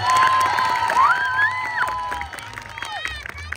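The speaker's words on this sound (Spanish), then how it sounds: "Si tú quieres que gane la gordita, regálale el aplauso" Crowd at a rodeo clown show cheering and shouting, a loud burst of whoops and whistles that fades over a few seconds, with voices talking throughout.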